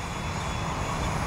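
A thrust-vectoring model airplane flies with a steady, loud engine drone throughout a short stretch, with no voices.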